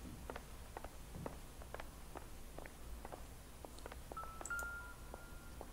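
A telephone is dialed in the video game L.A. Noire: a quick series of short clicks and tones in uneven rhythm, fairly quiet, with a brief ringing tone near the end.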